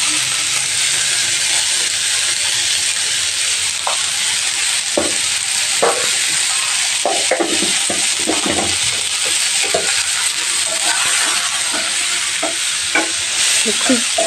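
A turmeric mixture with grapes being stirred and fried in a pan: constant loud sizzling with repeated scraping and clinking of the spoon against the pan, close by, with no talking.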